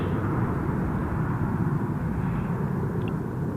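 A Ryanair airliner on final approach to Newcastle International Airport makes a steady, distant low rumble of jet engines that holds evenly throughout, with no talking.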